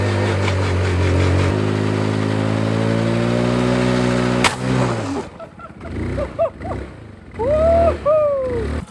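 The cheapest scooter in Slovenia, modified for off-road, idles with a steady drone then sputters and revs in rising and falling bursts as its rear tyre spins, close and loud.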